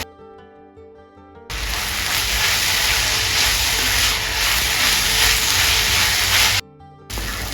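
Onion sautéing in a pan over a medium gas flame while cooking Kerala-style pepper chicken, a loud, steady hiss that starts abruptly and holds evenly, then cuts out briefly near the end and returns.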